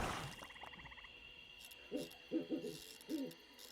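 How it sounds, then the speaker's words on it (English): An owl hoots somewhere outdoors in a short run of soft, low, rhythmic calls, faint and distant against a quiet background, with no speech. "Ooh, that is a loud owl."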